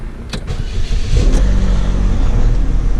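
A 2007 Chevy Cobalt 2.4 engine cranks briefly, then catches and starts, settling into a loud, close, steady idle.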